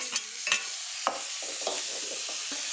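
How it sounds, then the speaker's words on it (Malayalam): Carrots and tomato being sautéed in a pan for noodles, with a soft steady sizzle under repeated scraping stirs of a spatula, close and moderately quiet, no talking. "നമുക്കിനി ഇത് വഴറ്റിയെടുക്കാം"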